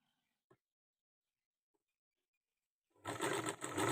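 A sewing machine starts up after near silence, running loud and steady as it stitches thread piping onto a blouse, preceded by a couple of faint taps.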